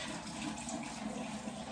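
Three quarts of water are poured into a home canning pot in a kitchen, a steady full gush of liquid that stays even from start to finish.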